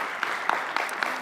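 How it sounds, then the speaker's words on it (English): A small audience at a talk gives brief applause for volunteers, with light, scattered clapping lasting barely over a second, close and moderately loud. "let's give a little round of applause for all the volunteers"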